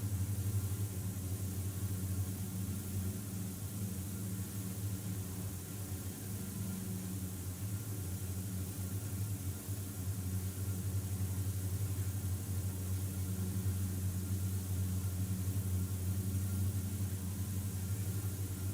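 Twin engines of a DA-42 aircraft in a flight simulator game, a low steady droning hum with slight wavering as power shifts, faint and continuous with no talk.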